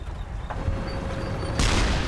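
Gunfire from a WWII German tank battle, a short sharp blast midway, then a heavier burst of booming fire near the end over a steady low rumble.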